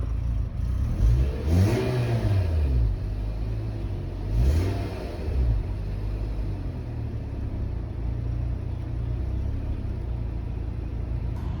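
A car engine with a faulty mass air flow sensor idles with a steady rumble, then is revved twice in quick succession near the start, each rev rising and falling back to idle. No one speaks.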